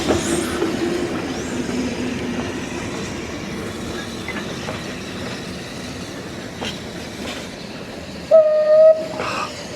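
An old train engine runs at a station in Esquel, Argentina, with a continuous rail rumble and light clatter, then a short, loud horn blast near the end.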